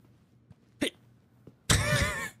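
A sharp hiccup sounds, with faint clicks around it, followed by a longer breathy, voiced burst, close and fairly loud indoors.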